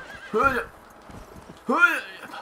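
A horse in the video game Red Dead Redemption neighs twice, loud and close, with hoofbeats and talk from players in between.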